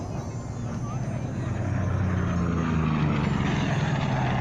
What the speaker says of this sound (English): The Corsair representing the Navy and the Marines.